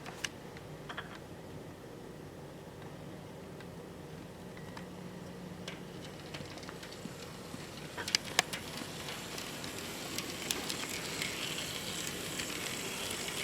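A Bowser HO scale SD40-2 model locomotive in CP Rail scheme running forward on track, a faint continuous mechanical whir and gear hum with scattered small clicks and rail ticks, growing slightly louder toward the end, no talking.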